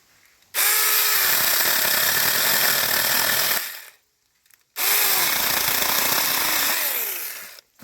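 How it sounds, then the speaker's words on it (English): Two long bursts of a mini chainsaw biting into wood, each whining loudly for a few seconds, separated by a short pause. "I'm working with a little mini chainsaw."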